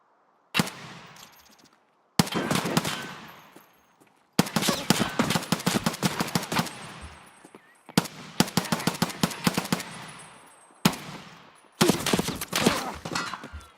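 Loud, rapid bursts of gunfire from a sniping video game come in about six long volleys, each cut off by a short silence, with the rattling shots close and sharp.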